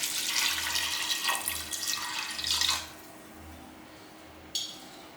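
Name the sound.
water being poured into dal curry pot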